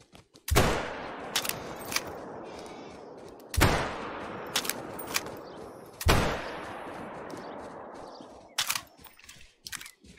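Three loud rifle shots ring out in the hunting game Call of the Wild on an Australian map, evenly spaced a few seconds apart, each a sharp crack followed by a long rolling echo and some faint clicks between.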